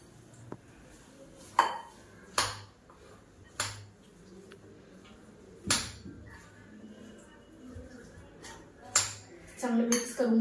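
A spoon clinks and scrapes against a bowl while sandwich filling is mixed with chili flakes and oregano, giving a few sharp, irregular knocks over a quiet background.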